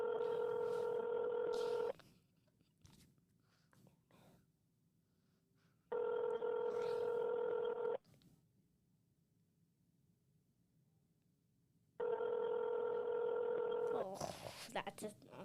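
A telephone call to a prank number rings out through the handset: three bursts of electronic ringback tone, each about two seconds long and separated by quiet pauses, with faint rustling and a voice near the end.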